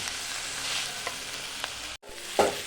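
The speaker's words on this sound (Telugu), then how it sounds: "మీడియం ఫ్లేమ్లో అయితే బాగా వేగుతాయి. అన్నీ బాగా మంచిగా మనకి ఫ్రై అవుతాయి." Mint and coriander leaves fry over a medium flame as they are stirred and mixed from bottom to top in a pan, making a steady close sizzle with a few scraping strokes and a brief break, with no talking.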